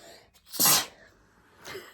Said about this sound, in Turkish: Hapşıracağım sanki şimdi